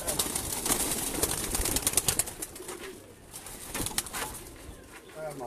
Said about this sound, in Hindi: ये सलेटे कबूतर है जी